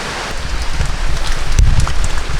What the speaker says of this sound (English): See, the rain has not let up at all.